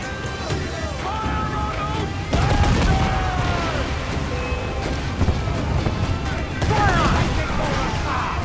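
Ship cannons firing in Assassin's Creed IV Black Flag during a naval battle, booming volleys rolling over dense battle noise, with crew voices shouting throughout.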